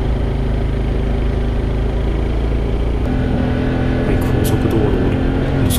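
A Honda CT125 Hunter Cub motorcycle rides along, its small engine droning steadily and loudly with constant wind rush, the pitch shifting slightly partway through as it exits an expressway.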